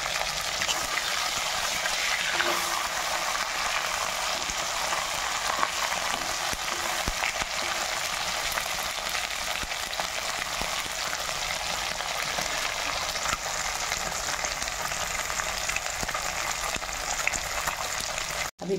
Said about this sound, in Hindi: और इसको भी हाफ फ्राई करना है